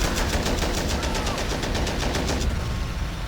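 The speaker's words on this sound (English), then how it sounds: "So he's taking shots at that building." Rapid machine-gun fire crackles in the multiplayer video game Men of War Assault Squad 2, a steady, dense burst of repeated shots over a loud, noisy battle background.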